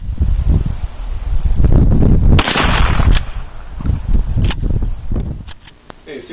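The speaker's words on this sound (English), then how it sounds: "We're going to go ahead and reach out and touch that furthest one with a slug." A shotgun fires a slug at a distant water jug outdoors: one loud, sharp report with a broadband burst, followed by a few fainter cracks, over steady wind rumble.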